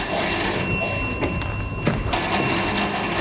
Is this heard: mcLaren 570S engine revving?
no